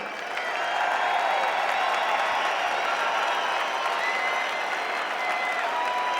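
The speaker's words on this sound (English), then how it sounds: "there'll be a big round of applause when this man's introduced." Opening Day baseball crowd at Coors Field for Padres versus Rockies, broad steady applause and cheering spreading through the stadium, moderately loud and sustained, an even wash of ovation from many distant hands.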